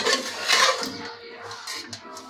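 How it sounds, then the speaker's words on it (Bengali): Boiled potatoes lifted out of a cooking pot, with a few light clinks and scrapes of utensil against metal, fairly close and moderately loud, then quieter handling. "এবার আলু সিদ্ধটা বের করে নিচ্ছি।"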